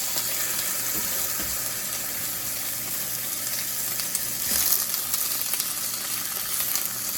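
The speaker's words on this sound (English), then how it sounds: "we're going to go ahead and throw our green beans right in there" Green beans sizzling in olive oil and butter in a sauté pan, a continuous bright crackling hiss that swells slightly midway, close and steady with no talking.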